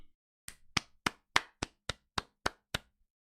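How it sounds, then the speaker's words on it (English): Eight or nine sharp, evenly spaced hand claps ring out in a steady rhythm, loud and close, with nobody talking. "Can we get a clap?"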